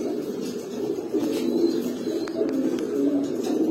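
A red patti pigeon hen coos in soft repeated low murmurs, close by and steady, with faint chirps and no talking.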